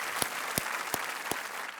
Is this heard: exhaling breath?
no